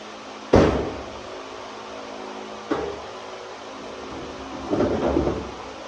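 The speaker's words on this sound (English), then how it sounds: "I'm going to close this door." The door of a Scion xB being converted into a pickup slams shut with a sharp thud near the start, followed by a lighter knock and a duller rattling close a few seconds later, heard close in a quiet space.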